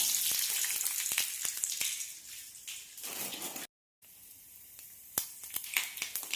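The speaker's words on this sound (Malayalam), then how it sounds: "ഇനി ഇതിലേക്ക് കടുക് ആഡ് ചെയ്ത് കൊടുക്കാം" Mustard seeds splutter and pop in hot oil in a pan on low flame, crackling in bursts over a steady sizzle for a ginger curry being tempered, fairly faint with sharp pops scattered throughout.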